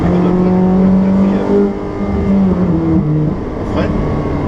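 A Ferrari 458 Speciale engine roars on a track, a loud, close, sustained drone that dips briefly and then climbs again, with tire noise and a person talking alongside.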